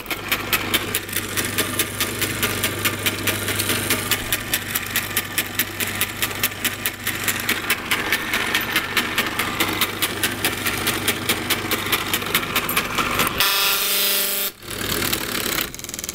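A modded paper shredder motor runs loud and close with a fast, even mechanical clatter. Near the end it cuts out briefly, lets out a harsh burst and then starts running again.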